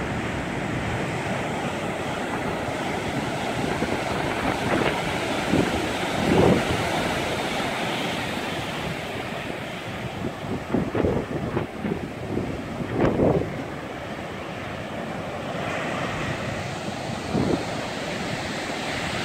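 Heavy surf pounds the shore during a storm at Brookings, a continuous roar of crashing waves with swelling surges and gusty wind rumbling across the microphone.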